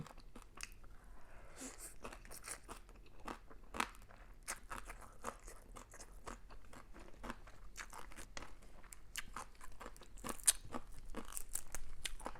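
Someone eats crispy pork with Korat-style papaya salad, producing close, quiet, irregular crunches and chewing bites that continue for about twelve seconds.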